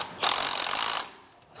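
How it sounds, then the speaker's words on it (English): A 19mm socket tightens the mounting nut on a Dutton-Lainson hand winch, giving one close, continuous ratcheting burst of rapid clicks for just under a second, then quiet. "reattach that nut and secure it down with a 19mm socket"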